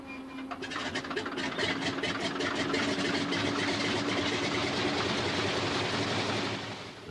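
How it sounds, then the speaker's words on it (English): A Pratt & Whitney air-cooled radial engine powers a de Havilland Beaver with a loud, steady, throbbing drone and a rough mechanical rumble, holding close and constant before easing slightly at the end. "The sight and sound of the past, a Pratt & Whitney air-cooled radial engine."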